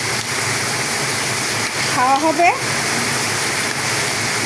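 Steady rain hisses all around, and a voice briefly speaks over the downpour midway through.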